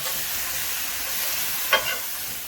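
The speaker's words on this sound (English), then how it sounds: "And that's going to saute for a few moments." Minced garlic and onions sauté in a pan, a steady hissing sizzle with a brief stirring scrape near the end.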